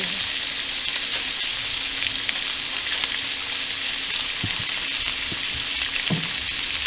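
Shrimp frying in a hot skillet on a stovetop burner, a loud, steady crackling sizzle held close throughout, with a few soft knocks of the pan and utensils.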